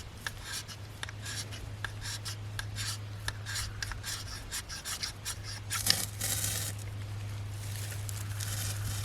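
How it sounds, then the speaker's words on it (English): Dry, rapid scraping strokes of a sharpened edge shaving material outdoors at a campsite, close and fairly quiet, with a louder burst of rasping near the end. "I'm gonna shave a little bit over it first, then I'm gonna send it"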